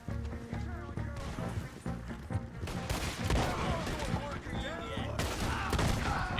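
Slug rounds fired from a gun during a horseback chase in Red Dead Redemption 2, several loud heavy shots over hoofbeats and game music, with a dense exchange of gunfire building through the middle.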